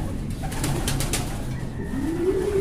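Racing pigeons kept for competition coo in low, soft repeated calls close by, with rustling and faint chirps from the loft and no talk.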